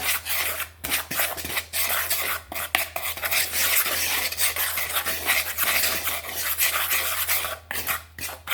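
Banana nut bread batter being stirred in a bowl, a steady scraping and rubbing of utensil against bowl with uneven strokes, close and continuous, with a low hum underneath and no talking.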